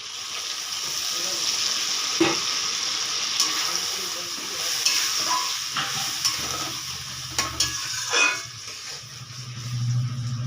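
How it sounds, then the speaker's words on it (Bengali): Prawn malai curry with milk simmers and sizzles steadily in a pan, a continuous bubbling hiss with occasional clinks of a spoon stirring, close and moderately loud. "এবারে এটাকে আমি একটু ফুটতে দেব।"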